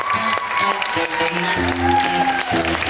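A television talk show studio audience applauds a guest's entrance, the clapping running under loud, tonal entrance music throughout.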